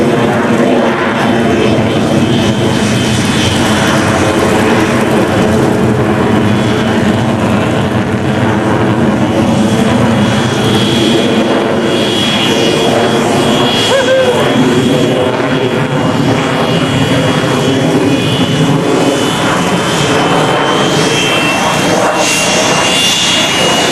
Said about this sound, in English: selecting full afterburner as the airspeed decays through 200 knots